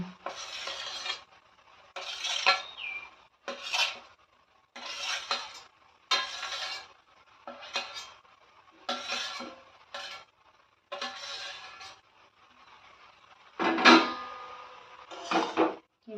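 Fried vegetables, with small shrimp and greens, are stirred in a cooking pot in a series of about a dozen scraping bursts, each roughly a second long with brief pauses, close and clear with no talking.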